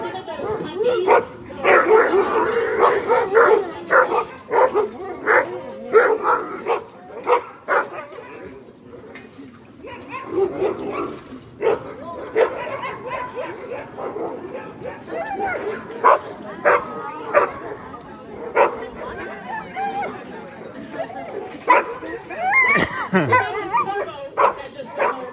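Sled dogs at a kennel in Denali National Park, a chorus of yips, barks and whimpering whines from several dogs at close range, overlapping in bursts alongside a person talking.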